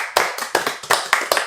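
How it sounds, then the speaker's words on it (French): A small group claps in loose unison, about six distinct, close, sharp claps in a steady rhythm with brief gaps between them. "on peut applaudir."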